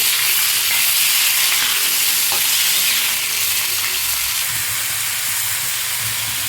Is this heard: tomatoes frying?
yes